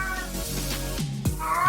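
A cat meows repeatedly at close range in a room, its drawn-out, tonal cries loud and clear, with one sharper burst near the end.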